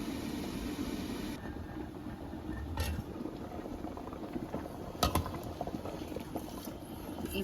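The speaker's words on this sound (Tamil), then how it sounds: "சவ்வரிசியும் இந்த கிழங்கும் சேர்ந்து நல்லா அவியட்டும்" Sago pearls and rasavalli tuber boiling together in a pot, a faint steady bubbling and simmering murmur with a few brief clinks, no one speaking.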